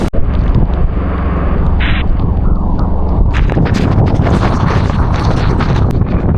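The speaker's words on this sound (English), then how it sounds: "It's a really big squall." Heavy squall wind batters the microphone aboard a sailboat heading north through a whiteout near mountains, a loud continuous roar and buffeting that swells stronger toward the end.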